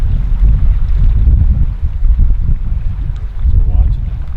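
Strong wind buffets a microphone outdoors by a lake, a loud, rumbling low roar that surges and dips across several seconds, with people talking faintly underneath.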